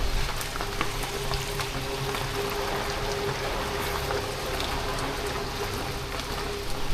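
Heavy rain falls in the Mota Varachha area of Surat, a steady, dense hiss of drops that stays constant throughout with no voices.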